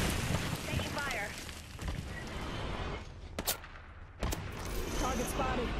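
Gunfire in Apex Legends on the World's Edge map at night: rapid bursts of shots with sharp cracks, set against game sound effects and voice callouts.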